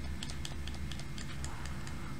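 Quiet, irregular tapping of keys on a computer keyboard while setting up Batocera for Commodore 64 emulation, faint clicks scattered over a low steady hum, no talking.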